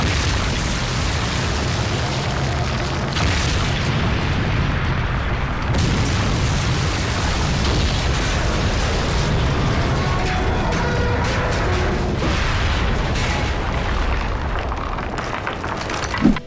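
Explosion in the video game GTA Vice City, a loud sustained roar of blasts and burning debris with crackling bursts and rumbling, staying dense and intense throughout.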